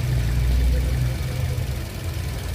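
A 2014 Toyota Vios engine with a low power problem idles smoothly and close by, giving a steady low hum with a faint rhythmic pulse and no voices.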